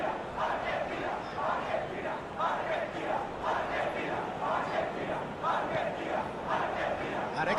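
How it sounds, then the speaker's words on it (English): A packed football stadium crowd roars before kickoff, chanting in a steady rhythmic swell that rises and falls every half second or so, loud and enveloping. "We have a hugely expectant crowd here."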